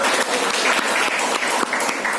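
Sustained applause from an audience at a legal awareness session on bullying, honoring the presenting team: a dense, steady crackle of many clapping hands, fairly close and even throughout, with no break.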